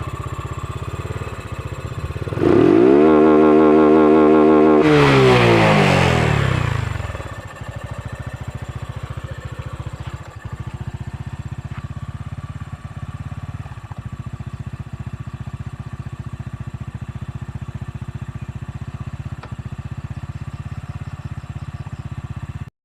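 A Honda Wave 125i motorcycle on its stock exhaust, fitted with 14-34 sprockets and no air filter, revs hard in one rising, then falling burst close by, then settles into a steady putting idle with no talking.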